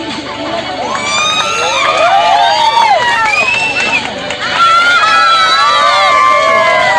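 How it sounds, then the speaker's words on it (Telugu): An outdoor crowd cheers, whoops and shouts loudly for several seconds, with children's voices and bright overlapping yells dominating; clapping is hard to pick out beneath the steady roar of the gathering. "one more time one more time claps"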